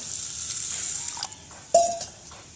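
Rice washed with water in a pot at home, a steady soft hiss of swishing water with a few clinks and splashes against the vessel.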